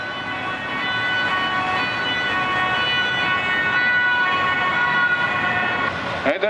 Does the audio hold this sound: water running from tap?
no